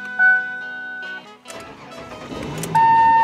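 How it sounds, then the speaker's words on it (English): A car's engine cranks and catches using a newly programmed third key, after a few steady electronic chime tones; a burst of starter cranking follows, then the engine settles into a running sound. "This key now cranks the car."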